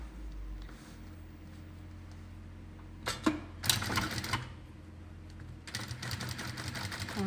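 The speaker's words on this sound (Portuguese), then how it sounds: "eu vou começar a costurar." A sewing machine stitches a zipper onto a luxury cosmetic case bag, running in two short bursts of rapid mechanical chatter separated by quiet pauses, close up with no talking.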